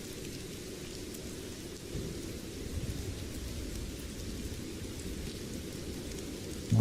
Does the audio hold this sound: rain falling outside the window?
yes